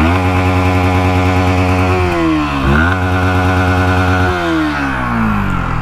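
A 2023 Yamaha MT-15 V2.0 with a loud exhaust revs up close, a steady throbbing drone that swells and dips as the throttle is twisted.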